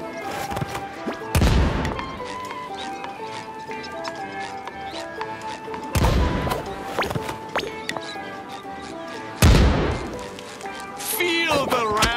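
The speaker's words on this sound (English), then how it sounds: "These dusty old cannons still pack a punch" Cannons fire in a SpongeBob SquarePants: The Cosmic Shake video game, three heavy booming blasts spaced several seconds apart over a busy game soundtrack, with a character voice speaking.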